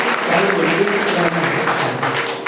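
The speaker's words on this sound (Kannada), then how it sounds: "ಇನ್ನೊಮ್ಮೆ ಜೋರಾಗಿ ಚಪ್ಪಾಳೆ ತರ್ತಾರೆ" Audience applause at a public gathering, a dense, steady wash of many hands clapping fairly close, sustained through the whole stretch with no break.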